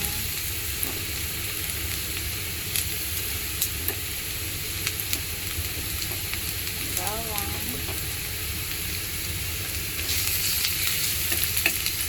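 Garlic frying in a pan while cooking chicken adobo, with a steady close sizzle like light rain and a few faint stirring clicks.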